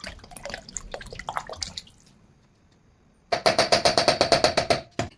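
Warm milk with its cream poured into a container: a splashing, dripping stream for about two seconds, a pause, then a louder burst of rhythmic glugging pours, close by, with no talking.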